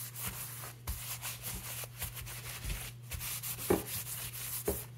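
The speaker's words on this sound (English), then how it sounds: "just a way to scrape this stuff off without damaging the steel" Hardened grease being scraped off the steel of a 1918 Carcano rifle with a brass or plastic scraper: close, uneven rubbing and scraping strokes in short bursts with small knocks, no voices.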